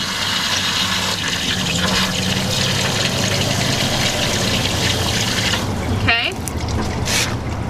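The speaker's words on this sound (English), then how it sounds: "I'm just flushing it out" Fresh water gushes steadily through an RV black water tank as it is flushed out, a loud continuous rushing with a brief gurgle near the end and a short spoken word over it.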